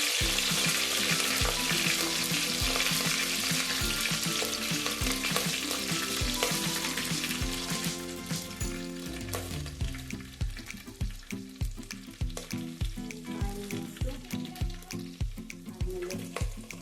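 Chopped onions fry in hot coconut oil in a clay pot, a loud steady sizzle that later gives way to the bumps and scrapes of stirring.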